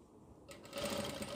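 A sewing machine stitches along the pleats of an Islamic cap, quiet at first and then running steadily louder in a continuous close whir.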